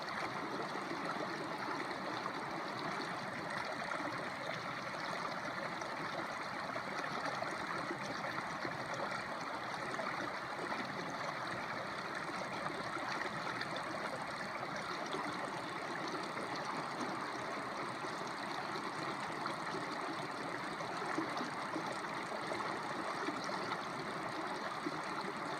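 A small creek in the Washington woods rushes steadily close by, a continuous broad gush of flowing water with no talk.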